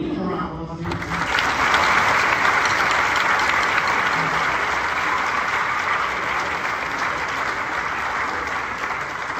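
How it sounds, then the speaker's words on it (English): An audience gives a middle school band a round of applause, a dense, steady wash of clapping that starts abruptly after a brief bit of talk and holds strongly for the rest of the clip. "Can you give them a round of applause?"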